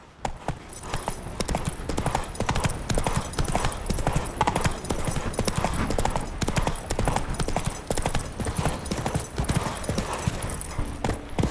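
A horse's hooves clip-clop steadily and close by in The Witcher 3 video game, a continuous rhythmic trotting that carries through the whole passage with no talk over it.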